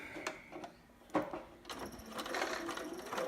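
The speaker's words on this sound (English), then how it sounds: "Back stitch a little bit there." A home sewing machine back stitches briefly on a zigzag setting, a few faint taps building into a soft, close whirring run near the end.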